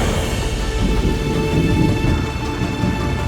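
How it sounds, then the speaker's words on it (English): Rain arrives over a desert in an ant colony simulation as a dense, continuous downpour with a deep thunder-like rumble underneath, steady and close throughout. "After a long stretch of scorching heat, the rain finally arrived."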